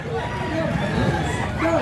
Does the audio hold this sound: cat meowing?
no